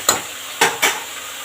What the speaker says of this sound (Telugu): ఇది నూనెలో బాగా మగ్గాలండి